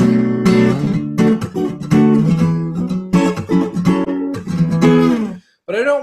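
Chords from a song ring out on a melodic instrument, a steady series of sustained, close-miked chords moving up and down in jumps, with a brief pause near the end and no talking.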